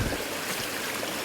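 A river riffle on a winter grayling stream rushes steadily, a close, broad hiss of flowing water with no voices.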